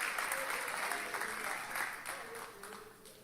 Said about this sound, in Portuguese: Quantos podem aplaudir ao nome do Senhor Jesus?